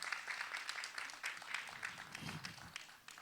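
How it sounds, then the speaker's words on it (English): An audience applauds a guest at a political event; soft, fairly distant clapping that thins out toward the end, with a brief low murmur partway through. "I hope you can hear. We are applauding you."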